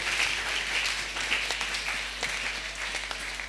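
A church congregation claps and applauds the Lord during a French-language service, a dense, steady wash of many hands clapping close by, fading slightly toward the end.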